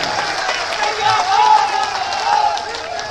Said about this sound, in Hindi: ऐसे केपी के लिए जरा जोरदार दोनों हाथ ऊपर करके जोरदार तालियां बजाइए जरा